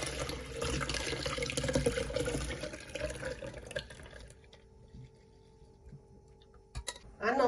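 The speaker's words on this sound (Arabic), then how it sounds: "بس برد عنا الكركديه هلا بنصفيه بالمصفاي." Cooled hibiscus tea being strained through a kitchen strainer: liquid splashes and trickles steadily for about four seconds, then fades to a quiet drip, with a brief clatter at the very end.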